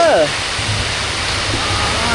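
Heavy storm rain pours down in a dense, loud, continuous hiss, close and enveloping, with a short voice fragment at the very start.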